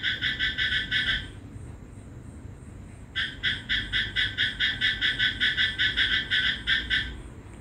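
Frogs croak at night near a house, a loud rhythmic chorus of pulsing calls that breaks off for about two seconds and then resumes, steady and close.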